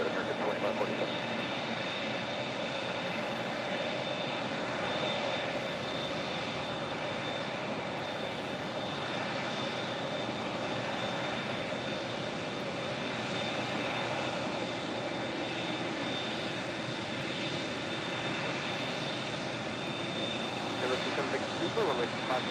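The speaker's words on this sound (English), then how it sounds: "What a day plane spotting here at LAX." Airliners at LAX airport produce a constant broad jet roar that fills the whole stretch, steady and moderately distant, with voices faintly present beneath it.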